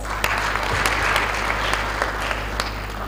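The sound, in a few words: audience applause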